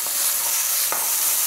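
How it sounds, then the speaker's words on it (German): Vegetables, onions and garlic frying in olive oil in a pan, a dense steady sizzle with faint stirring clicks, close and alone without talk. "Und das Gemüse brate ich dann auch kurz mit an. Da kommen dann auch gleich meine Zwiebeln und mein Knoblauch mit dazu."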